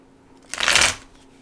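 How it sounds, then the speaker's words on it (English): A deck of tarot cards gets a single quick riffle shuffle, a brief crisp flutter of cards close by in an otherwise quiet room. "I'm gonna shuffle these cards and I'm gonna deliver this message."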